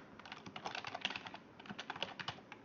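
Quiet, rapid typing on a computer keyboard: a steady patter of light key clicks with no voices over it.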